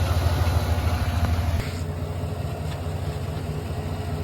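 A 2021 Chevy Suburban engine idles while warming up, a steady low hum with a faint rhythmic pulse, close and continuous, with a slight shift in tone partway through.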